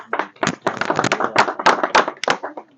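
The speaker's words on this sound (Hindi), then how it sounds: "बहुत सारी तालियों में जनाब राणा ज़ीशान साहब।" Audience at a pigeon-flying (kabootar bazi) mentorship ceremony clapping for an honoured guest: a dense, close burst of hand claps lasting a few seconds, uneven and lively, with no clear talk over it.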